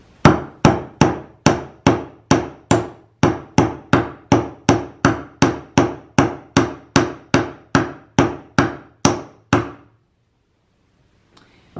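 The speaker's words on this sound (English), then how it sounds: "this is where the hammers come in. So it's going to almost use this as like an anvil. And then we're just going to pound." A small metal rake for a desktop zen garden pounded flat with a hammer on a makeshift anvil, about twenty sharp, evenly spaced strikes ringing loud and close, then silence.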